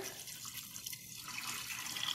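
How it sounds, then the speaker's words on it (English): Water pours steadily from a tap into a cooking pot over soaked pink beans, making a continuous splashing rush with no pauses. "We're going to add it to our pot and we're going to cover them with water."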